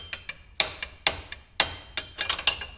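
Sharp metal hammer blows ring out, about a dozen strikes in uneven bursts, close and crisp, while a Deere 440R loader is being installed on a tractor.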